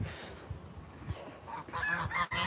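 Geese on a small farm kept with about fifty ducks give a few close, loud honks and calls, growing busier toward the end.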